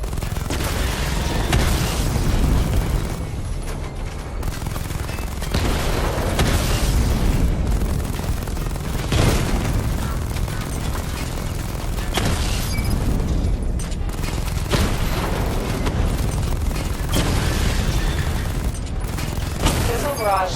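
Missile barrage from Batman: Arkham Knight, a long run of loud, heavy booms and bursts repeating every couple of seconds, with rumbling blasts overlapping one another throughout.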